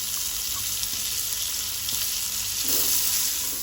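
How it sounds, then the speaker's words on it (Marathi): Chopped onion fries in butter in a pan for a vegetable kurma, giving a steady, close sizzle that holds through the whole stretch and swells slightly toward the end, with no voices. "पळयात, आता कांदो आमचो तळसून जाला।"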